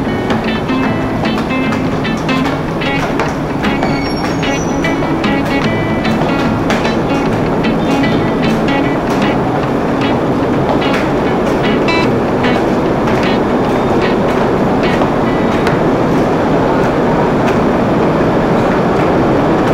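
A Purwojaya passenger train in Indonesia rumbles steadily and loudly, with rhythmic clickety-clack of wheels over rail joints throughout.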